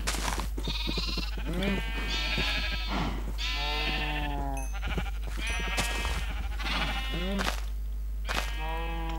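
Sheep in Minecraft bleating over and over, several overlapping wavering calls in quick succession, loud and close, with a constant low hum underneath.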